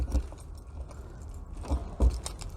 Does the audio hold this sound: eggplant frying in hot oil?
no